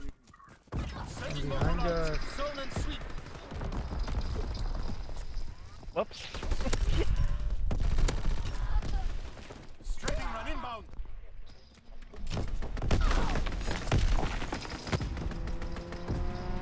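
Bursts of rapid gunfire and sharp impacts crackle in Call of Duty: WWII, clustered in several loud volleys separated by brief lulls, with someone talking over much of the shooting.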